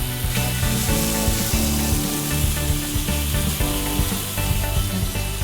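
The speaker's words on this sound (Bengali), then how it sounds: "আমরা অল্প আঁচে এটা ভেজে নিচ্ছি, উল্টিয়ে দিচ্ছি।" Coca-Cola chicken wings frying in a pan over low heat, a steady loud sizzle with scattered crackles and pops running throughout, no voices.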